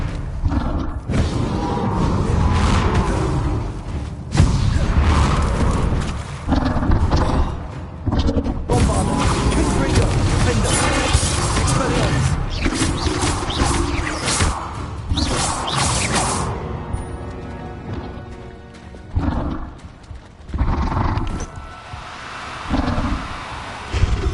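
Spell blasts from Hogwarts Legacy, Bombarda and Confringo, go off as repeated bursts, whooshes and crashing impacts over a busy combat soundscape with game music, loud and continuous.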